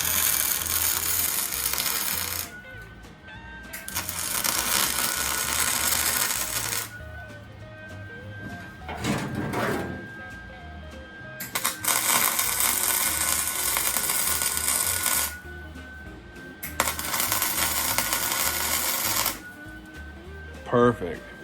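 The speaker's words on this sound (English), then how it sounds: "now he's gonna weld the nut to the washer and the nut to the bolt" Welding a nut to an eye bolt on a smoker barrel produces bursts of harsh arc crackle lasting a few seconds each, separated by pauses, fairly close and moderately loud.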